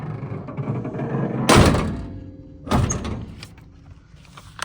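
Two solid door thunks from a 1952 Chevrolet 3100 pickup, the first heavier, each followed by a brief metallic rattle, with quiet shuffling in between.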